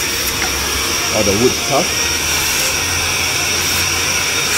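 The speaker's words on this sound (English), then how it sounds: "make use of a vacuum. And vacuum away the debris" A vacuum cleaner runs steadily, sucking up wood chips and debris left from drilling a workpiece, a constant loud whine with someone talking briefly over it.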